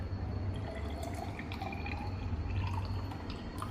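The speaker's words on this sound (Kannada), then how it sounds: "ಈಗ ಡಿಸ್ಟಿಲ್ ವಾಟರ್ ಇವಾಗ 50 ml ಇದಕ್ಕೆ ಹಾಕುವ" Distilled water, about 50 ml, is poured into a container, giving a steady faint trickle and light dripping throughout, close by, with no talking.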